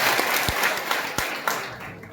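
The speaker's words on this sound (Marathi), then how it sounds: "एका बोटाने टाळ्या वाजवा जोरात" Students at a career guidance guest lecture clap along, a few louder claps standing out over a steady spread of clapping that runs throughout.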